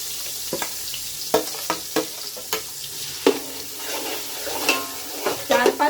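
A spatula scrapes and clanks repeatedly in a pan as Surti undhiyu is tossed with masala, sharp metallic knocks over a bubbling, sizzling bed of frying vegetables, close and fairly loud.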